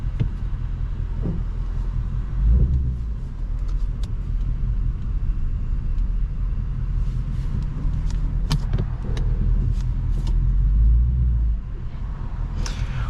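2024 Ford Mustang Dark Horse pulling away with the windows down, a deep steady engine rumble heard from inside the cabin with a couple of heavier low surges, no talking.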